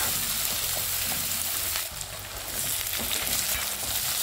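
Sliced onions fry in hot oil for a bhuna palak spinach curry, a loud, dense, continuous sizzle close by with faint stirring scrapes and no talk.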